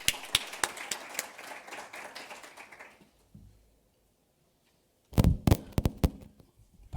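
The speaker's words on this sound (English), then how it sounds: "let's give Dave a round of applause." A conference audience claps in a few scattered, sharp bursts, trailing off into near silence, then a short second flurry of loud, close claps follows.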